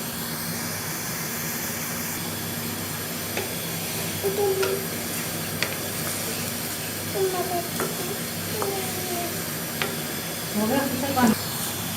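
Namkeen gosht cooks on a high gas flame, giving off a steady, even sizzle and hiss as the meat's liquid boils off, with faint clinks and a soft voice now and then.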